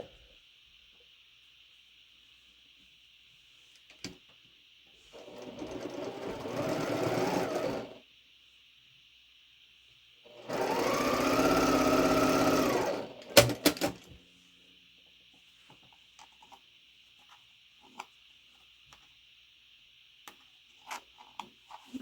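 Sewing machine stitching two quilt blocks together in two separate bursts of steady, loud whirring with a quiet pause between, followed by a few light clicks and clatters against a faint steady hum.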